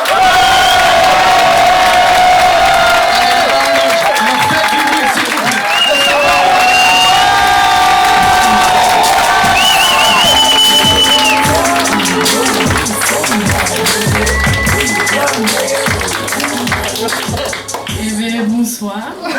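Loud crowd at a French comedy stage show cheering, whooping and clapping for a first-time performer, a sustained roar with shouts and whistles rising above it, fading slightly near the end.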